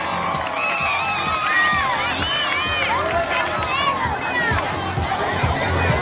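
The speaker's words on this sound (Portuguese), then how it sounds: "Vamos aplaudir." A crowd at a beauty pageant cheering, shouting and clapping continuously, loud and lively, with whistles and voices rising over the noise.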